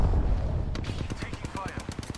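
Rapid automatic gunfire in the shooter game Apex Legends, a fast regular train of close, sharp shots after a brief low rumble at the start.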